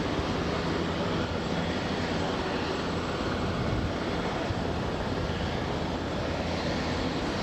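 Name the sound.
Beechcraft King Air turboprop plane departing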